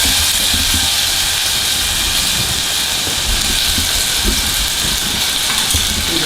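Tomato dropped into a pot of hot olive oil sizzles and steams with a dense, steady hiss that holds evenly throughout, close and fairly loud, with no voices.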